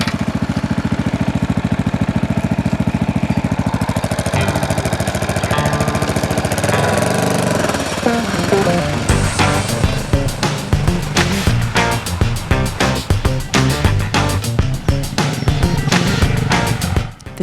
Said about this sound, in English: The 52 bike of Close Support Battalion Remy pass next.